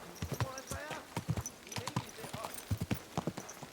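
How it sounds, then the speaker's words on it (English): A horse's hooves clip-clop at an easy, slow walk, a close, fairly quiet run of uneven hoof strikes with a brief whinny-like tone partway through. "today you've got a horse"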